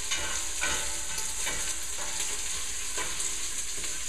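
Bacon and pancetta fry steadily in a pan as the base for a Bolognese sauce, giving a continuous close sizzle with faint stirring scrapes and no voices.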